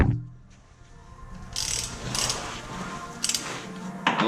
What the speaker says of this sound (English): we can kind of tighten them all up and then torque them down